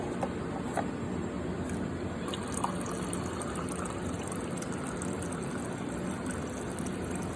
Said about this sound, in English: make sure you dispense a couple cups of water